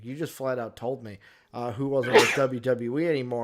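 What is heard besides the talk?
sneeze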